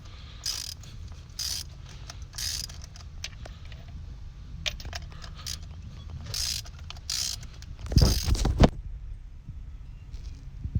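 A ratchet and socket loosen a spark plug on a 2012 Kia Soul, with close repeated clicking pawl bursts and a louder grinding turn near the end, no voices.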